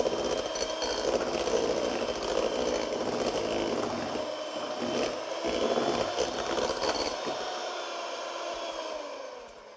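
An electric mixer whirs loudly and continuously as it whips egg whites, a steady buzzing drone with small shifts in pitch as the beaters move, cutting off near the end.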